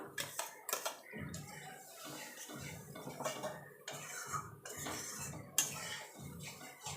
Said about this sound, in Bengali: কন্টিনিউ কিন্তু নাড়তে হবে কাজু আছে তলায় লেগে যেতে পারে